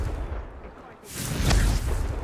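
A Confringo spell in a wizard video game bursts into a loud rumbling explosion after a quieter lead-in, its boom swelling and lingering for about a second.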